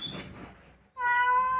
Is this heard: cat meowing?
yes